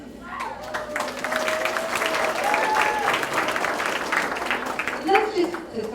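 Audience applause at an elementary school 5th grade graduation ceremony, a steady wash of many hands clapping throughout at moderate level, with a voice and a sustained tone-like sound mixed in.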